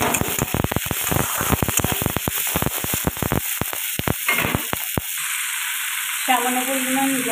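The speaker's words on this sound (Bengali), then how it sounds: "এবারে দিয়ে দেব কেটে রাখা ক্যাপসিকাম, ভালো করে ভেজে নেব।" Chopped capsicum hits hot oil in a pan with loud, dense crackling and popping that settles after a few seconds into a softer, steady sizzle, with a brief low hum near the end.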